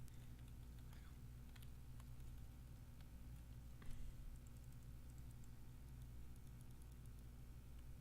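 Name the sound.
keyboard typing and clicking sounds in the video game Everlasting Summer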